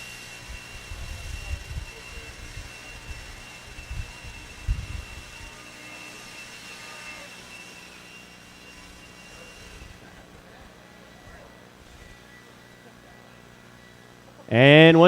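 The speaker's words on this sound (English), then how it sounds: "grab that blower and blow off your area for me" Leaf blowers clear debris off an RC raceway track during qualifying at a hobby race event, a steady airy roar with low rumbling bursts early on, voices faintly in the background and a loud harsh surge right at the end.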